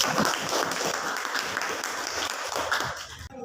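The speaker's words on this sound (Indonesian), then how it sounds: "untuk anak-anak kami tepuk tangan dulu" Children in a classroom clap together in a dense, loud burst of applause that carries on steadily for several seconds before cutting off, with a few murmured voices beneath.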